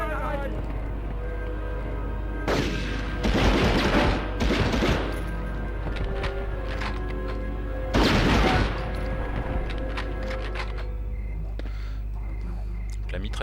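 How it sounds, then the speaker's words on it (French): Machine gun fire in the video game Medal of Honor: a few rapid, loud bursts of automatic fire rising out of steady game background sound, with a pause between the bursts. "La mitrailleuse a l'air moins puissante que le fusil, mais un rythme de tir beaucoup plus rapide"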